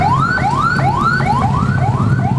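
An ambulance siren on a Jakarta street at night after a crash, rising in rapid repeating whoops, loud and close throughout, with no speech over it.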